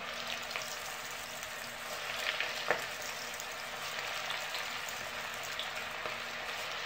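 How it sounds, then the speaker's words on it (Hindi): Onion rings frying in medium-hot oil give off a steady, even sizzle and crackle with a soft clink partway through. The sound is close and fairly quiet, with no talk. "अब इसमें एक एक करके फ्राई कर लेते हैं"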